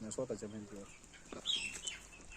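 Free-range country chickens cluck and squawk a short way off on a farm while a person talks in the background, over a low outdoor hum.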